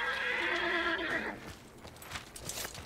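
A horse in the video game Hunt: Showdown lets out a loud, drawn-out whinny, followed by scattered hoof clops and rustling as the call fades.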